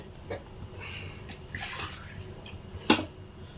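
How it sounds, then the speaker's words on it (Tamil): Water is poured from a tumbler into rice and dal for a simple home-cooked rice dish, giving a few quiet splashing pours and a sharp clink near the end over a low background hum. "நம்ம ஒரு மூணு டம்ளர் தண்ணி ஊற்றணும் போதும்"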